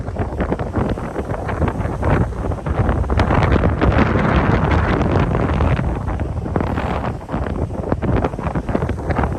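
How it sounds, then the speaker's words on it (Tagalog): Strong wind at the Bangui wind farm buffets the microphone continuously, a loud roaring rumble with gusty surges throughout, no voices. "Ang lakas kasi ng hangin."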